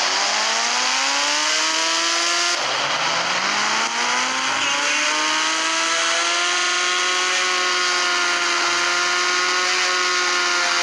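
A motorbike in a 3D Indian bike video game being ridden at full speed, a loud sustained engine whine that climbs and settles in pitch, drops briefly as the gear shifts, then rises again, with no talking.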